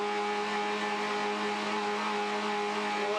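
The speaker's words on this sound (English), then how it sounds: "Listen to the little Mercedes engine scream." A small Mercedes engine in a Ssangyong Actyon racing ute screams at high steady revs during a circuit race at Pukekohe, a loud sustained whine with no pauses and no talking.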